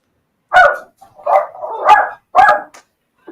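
A dog barks in loud, close bursts, about four sharp barks spread unevenly across a few seconds, with short silent gaps between them and no talk.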